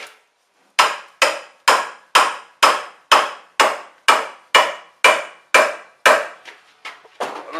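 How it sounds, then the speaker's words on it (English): Around a dozen evenly spaced blows from a sand-filled dead blow hammer hit a shovel head, each a loud, close, dull thud. The strikes grow fainter and more scattered near the end, and no one talks. "Might have to get a dead blow. This is a sand-filled hammer."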